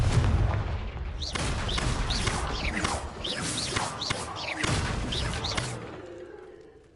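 A Confringo fire blast spell in Hogwarts Legacy bursts with a loud whooshing, crackling blast followed by a chain of impact booms and fiery swishes that fade out near the end.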